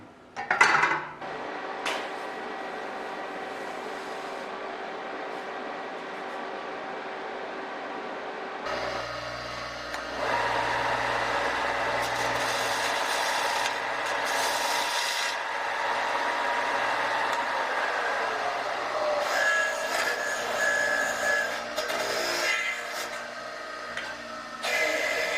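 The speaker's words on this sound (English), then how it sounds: "I'm going to come in and start welding this" Welding on a bolt of an experimental Bearhawk airplane's horizontal stabilizer starts after a few faint clicks, then settles into a steady buzzing hiss with a low hum that carries on, shifting slightly, for the rest of the stretch.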